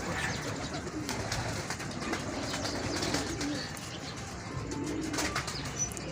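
Pigeons coo and flutter amid a steady outdoor wash of noise, the calls soft and continuous throughout.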